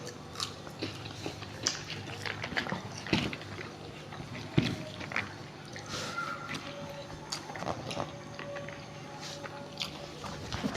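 Someone eating chicken biryani in a two-kilo challenge chews close to the mic, with soft wet mastication, occasional sharp bites and clicks, and quiet background noise.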